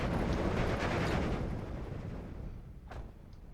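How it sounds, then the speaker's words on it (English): Mortar shells landing in Steel Division 2, a WWII strategy game: a dense rolling rumble of distant explosions that fades partway through, with a faint sharper crack near the end. "So they're going to start mortaring all these guys that are giving my Grenadier a bit of grief."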